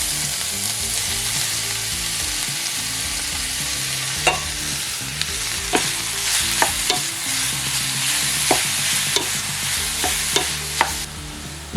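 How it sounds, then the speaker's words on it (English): Soy curls sauté in a hot pan with a steady sizzle, while a utensil stirs and scrapes in several sharp, distinct strokes. "We're gonna saute it for about 5 minutes, so that way it gets caramelized"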